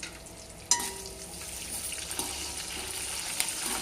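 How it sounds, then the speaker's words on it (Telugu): Dried red chillies and curry leaves frying in hot oil, a soft steady sizzle with a sharp drop-in splash at the start and a few small pops, no voices. "ఇప్పుడు ఎండుమిర్చి వేస్తున్నానండి. తర్వాత కరివేపాకు కూడా వేసుకుంటున్నాం."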